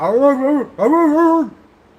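A dog gives two drawn-out, whining barks or yowls in quick succession, loud and close, the second slightly longer, then quiet.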